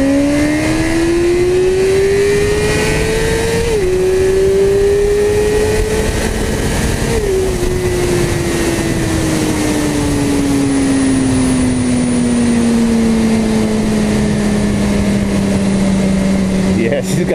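BMW motorcycle on an open road, its engine note climbing steadily under acceleration with a brief shift dip, then holding a smooth, loud drone with constant wind rush throughout.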